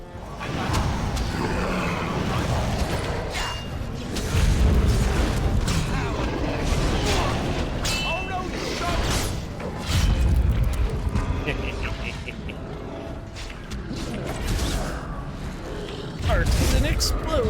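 Explosions in the fantasy video game Dragon Age: Origins, a sustained loud roaring rumble with heavy booming surges that swell and fade repeatedly amid dense battle noise and clanking effects.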